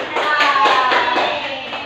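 A classroom of students applauds a student who has just presented alone, a dense burst of hand claps sustained for about two seconds at moderate loudness, with faint voices mixed in.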